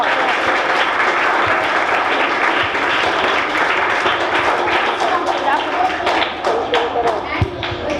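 A school audience applauds loudly and continuously, with scattered thumps, footsteps and children's voices mixed into the clapping as it goes on.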